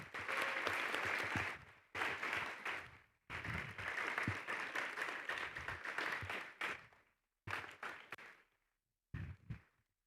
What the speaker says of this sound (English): Let's give them a big round of applause for their dedication.